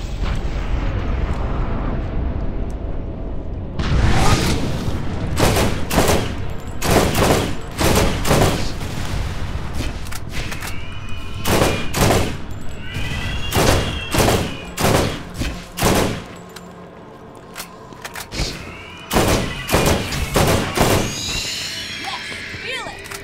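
Gunfire in the video game Borderlands: loud, separate shots and short bursts in irregular rhythm through most of the stretch, alternating with and sometimes overlapping a player's talk.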